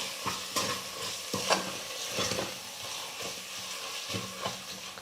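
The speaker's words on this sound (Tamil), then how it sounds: "இப்போ இது எல்லாத்தையும் சேர்த்து நல்லா கலந்து கொடுத்துக்கலாம்." Chillies, sambar powder and salt being stirred in a pan, with scraping strokes of a spoon repeating every second or so over a steady low sizzle, close and moderately loud, with no voices.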